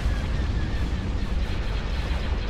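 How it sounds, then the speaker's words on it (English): Dense, continuous booming barrage from a hypervelocity cannon in a Star Wars: Forces of Corruption space battle, a loud rumbling wall of overlapping blasts without pause or audible voices. "I've got hypervelocity cannon firing."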